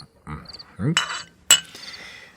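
Drinking glasses clink together in a toast among friends, two bright strikes about half a second apart, the second sharper, with a brief ring after each and low voices around them.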